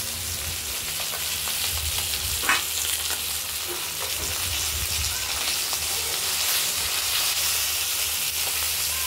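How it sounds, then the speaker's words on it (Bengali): Koi fish fry in hot oil with a dense, even crackling sizzle, close and loud, plus an occasional faint clink from the pan. "একদিক ভাজা হয়েছে, আরেকদিক ভাজা হলেও হয়ে যাবে।"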